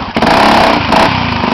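A motorcycle engine runs loud and close on a dirt trail, a steady raspy drone with slight revving throughout.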